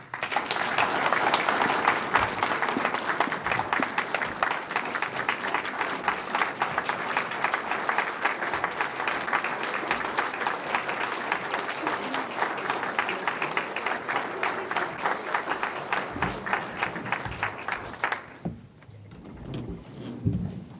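Sustained applause from a luncheon audience in Waterville welcoming Senator Mitchell, a dense, steady clapping lasting about eighteen seconds before fading out into near silence.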